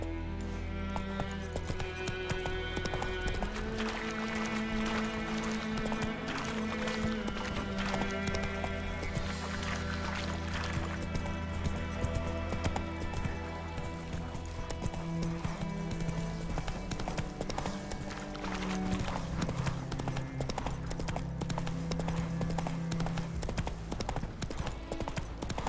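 Roach the horse galloping in The Witcher 3, hooves clip-clopping in a steady, continuous rhythm throughout, underneath game music.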